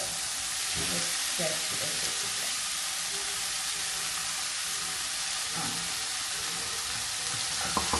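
Raw chicken sizzles and fries in a hot pan, a steady close hiss filling the whole stretch, with occasional scraping stirs and clinks rising above it.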